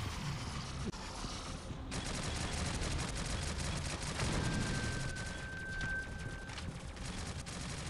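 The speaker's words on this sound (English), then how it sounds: "I don't know what he's shooting, but it's difficult to get away from." Enemy gunfire in Shadowgun Legends, rapid bursts of shots rattling over dense game background noise, fairly quiet and continuous, with a sustained electronic tone in the middle.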